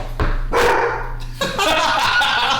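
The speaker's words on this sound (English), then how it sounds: "They have hounds" Hounds bark in a few loud, close woofs and yips over a steady background hum, with a brief gap between the barks.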